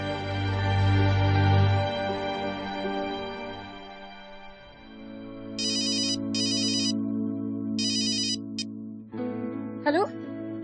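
A phone ringtone sounds while someone calls their mother, chiming in several short, evenly spaced bursts over a steady background music bed.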